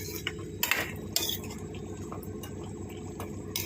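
A spoon stirs drumstick, tomato and carrot curry in a pan, giving faint scattered clinks and scrapes against the metal over a low background hum, with no talking.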